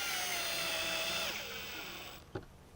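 A power drill drives a screw into wood during furniture base assembly, whining steadily at high speed, then slowing and dropping in pitch before stopping, followed by a single sharp knock; no one speaks.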